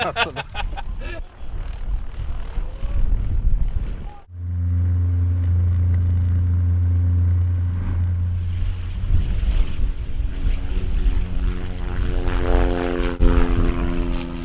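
A vintage propeller plane drones steadily and loudly after a brief rush, its engine holding a deep, sustained hum with a rising, shifting pitch as it flies, heard close and without talk.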